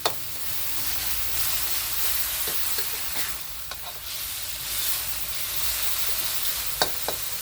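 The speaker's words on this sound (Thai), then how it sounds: "ผัดให้เข้ากันค่ะ" Chicken stir-fries with roasted chili paste and oyster sauce, a bright, steady sizzle close up, broken by scattered clicks and scrapes of a spatula against the pan.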